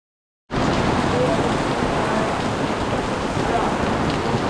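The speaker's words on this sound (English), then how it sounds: "Pouring rain." Heavy pouring rain, loud and steady, a dense broadband hiss that starts abruptly after a half-second of silence and holds constant without letup.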